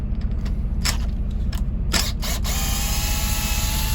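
Ratchet unscrewing bolts from a bus seat, heard as a run of quick ratcheting clicks over a steady low rumble and background music, with a thin high whine toward the end.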